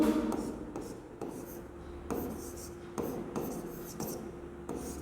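A pen or chalk scratches across a surface in several short strokes, each a brief rasp separated by pauses, fairly close and quiet, with faint murmuring in the background.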